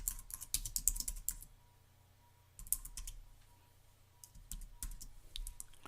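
Keys clatter on a computer keyboard in bursts of rapid typing, close and crisp, with a pause in the middle before the tapping resumes, and no voices.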